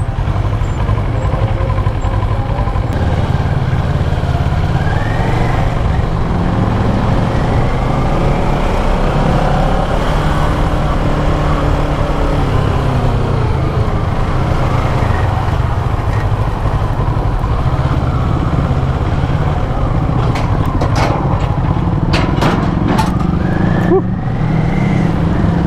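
A 2012 Kawasaki ER-6n motorcycle engine drones steadily while riding in first gear, a continuous close hum with slight pitch rises as the throttle shifts and a few brief clicks near the end.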